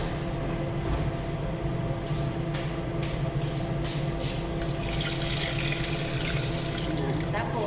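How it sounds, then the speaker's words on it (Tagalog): Broth poured into a pot of chicken and rice for kapsa: a steady, continuous splashing and rushing of liquid that brightens and grows busier toward the end, with low background noise throughout. "Lagyan natin ng sabaw ng tamang-tama sa isasain natin yung bigas."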